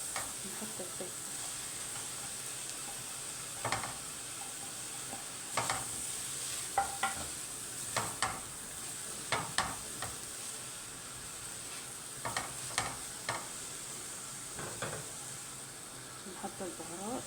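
Onion and peppers fry in a pan with a steady sizzle, broken by repeated scrapes and clatters of a spoon stirring through the pan; no one speaks.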